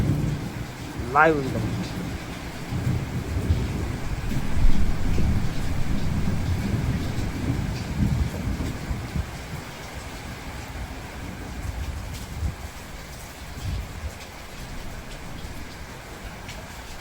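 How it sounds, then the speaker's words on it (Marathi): Heavy monsoon downpour drums steadily over a farm during a power cut while low thunder rumbles and rolls through the first half, with someone speaking briefly over the storm. "बघा मुसळधार पाऊस चालू आहे. लाईट वगैरे सगळीकडे गेलेलं आहे आणि विजांचा कडकडाट चालू आहे बघा"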